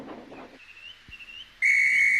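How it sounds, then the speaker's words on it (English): A train guard's whistle at a railway station shrills in one loud, sustained blast that starts abruptly partway through, after a brief voice and quiet ambience. "Oh, that's my guard's whistle."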